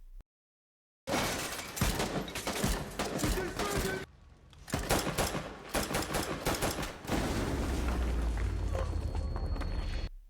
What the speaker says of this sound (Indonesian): Dan pasukan polisi suruhan si Kruger pun mulai menyerang membabi buta.